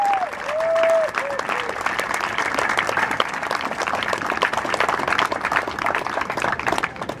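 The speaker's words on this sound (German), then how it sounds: "das ist ein Applaus wert." Sustained applause from a crowd at an outdoor solidarity rally supporting a hunger strike for underground 380-kV cables, with steady dense clapping throughout and a voice briefly audible near the start.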